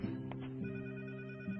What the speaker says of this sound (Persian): تلفن رو بردار.